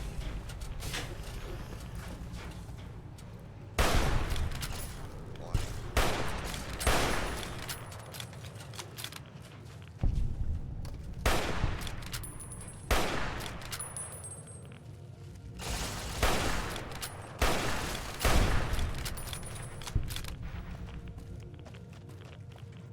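Hunting rifle gunfire in Fallout: New Vegas, a series of loud, separate shots spaced a few seconds apart over a quieter game backdrop, with movement and footstep noise between them.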